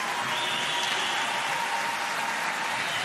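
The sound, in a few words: crowd applause at an ice hockey game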